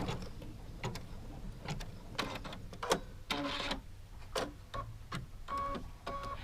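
A sewing machine stitches a fabric strip onto a quilt block in short, uneven runs of rapid mechanical ticking and clatter, close and moderately loud.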